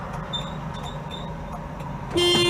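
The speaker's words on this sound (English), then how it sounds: "that's the horn" A 1975 Mitsubishi Colt 1400 Delica minibus gives a single loud, steady horn blast near the end, cutting in sharply over the low rumble of the idling engine and road noise.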